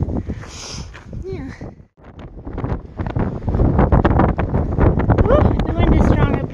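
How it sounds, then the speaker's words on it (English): Strong wind buffets the microphone on a mountain stretch of the Pacific Crest Trail, a rough, roaring rush that dips briefly, then builds louder and stays heavy while a person talks over it. "the wind is strong up here"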